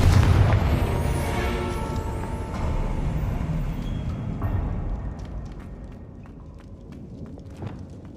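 A Confringo blasting spell in Hogwarts Legacy sets off a loud booming explosion at the start, with a deep rumble that decays slowly over several seconds while faint scattered debris clicks and ticks follow.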